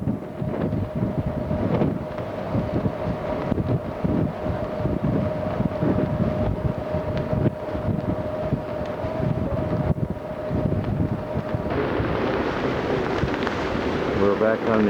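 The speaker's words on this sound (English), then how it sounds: "The wind is blowing pretty hard." Strong, steady wind roars across the microphone aboard a boat crossing the Bosphorus strait at Istanbul, constant and buffeting throughout with engine rumble beneath.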